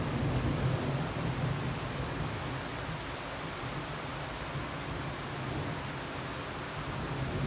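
Heavy rain falls over pastureland in Minas Gerais, a dense, even hiss of downpour that stays steady and loud throughout with no talking.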